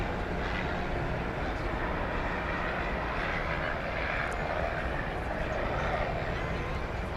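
A Super Cargo Master cargo jet lands at DFW Airport with a broad, loud, steady engine roar that carries throughout, while people talk quietly underneath.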